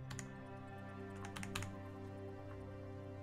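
Arrow keys on a computer keyboard are tapped while playing the strategy game Sid Meier's Starships. The clicks come in small bursts, close and quiet, over a steady hum of game music, with no talking.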